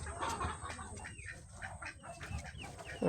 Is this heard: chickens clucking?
yes